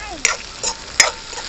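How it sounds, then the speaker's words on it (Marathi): Crushed green chilies frying in a little oil for village-style pithla, a bright sizzle broken by three sharp spatula scrapes and stirs, fairly close and without talk. "मावशींनी परत थोडस तेल घातलंय आणि त्या कुटलेल्या मिरच्या त्यांनी घातल्या"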